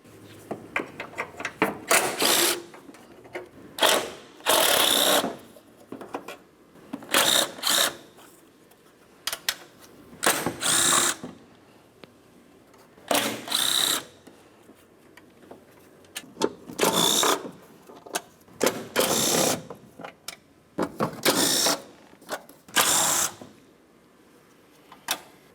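A power tool removes 10mm bolts from the cowl of a 2009-2010 Pontiac Vibe. It makes loud, close whirring bursts of a couple of seconds each, repeated with short pauses, and no one talks.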